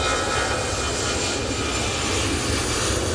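A TUI passenger jet returning from Cancun roars past on final approach at Manchester Airport, a loud, steady broadband engine rush that holds for the full few seconds with no voices.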